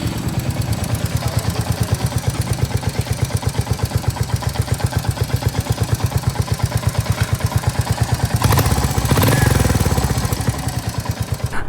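A Royal Enfield Hunter 350 motorcycle engine running without its sump guard gives a steady, loud, close thumping idle with an even rapid pulse and a slight metallic clatter, heard on its own.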